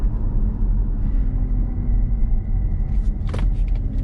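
A Mazda MX-30 electric car slows under maximum regenerative braking with the foot off the throttle. A steady low road rumble and tire hum carry throughout, with a brief sharp click near the end.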